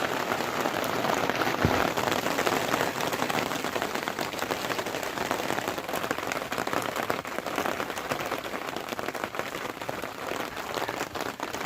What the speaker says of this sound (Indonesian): Kena gerimis.